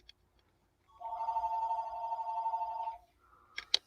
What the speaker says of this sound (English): a spam risk phone call, which I avoid like it's the plague